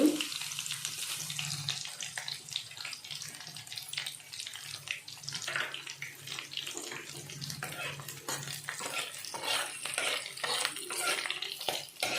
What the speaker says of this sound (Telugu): ఆయిల్ హీట్ ఎక్కిందండి వెల్లుల్లిపాయలు వేసుకుందాం ఫస్ట్